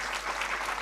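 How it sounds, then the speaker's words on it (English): An audience applauds after a public science lecture in a hall, a short, dense burst of steady clapping from many hands. "there is a big round of applause for speaker as well as the audience"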